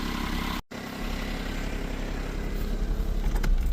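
A Smart Car 451 engine idles steadily in a garage setting during an oil change, a low constant hum holding even throughout apart from one brief dropout near the start.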